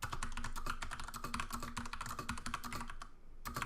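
Steady, fast typing on a computer keyboard, with close, crisp key clicks in a continuous rhythm and a brief pause near the end before the typing resumes.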